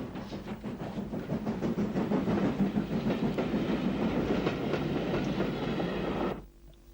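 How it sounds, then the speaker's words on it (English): GNR UG class steam locomotive running with a local passenger train in Ulster, 1964, with steady exhaust beats and rolling wheel clatter, loud and close, cutting off abruptly at the end. "UG number 48 has the 240 local service from Portadown to Dungannon on September the 5th, 1964."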